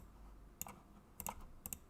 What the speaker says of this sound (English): I can hear your mouse clicks.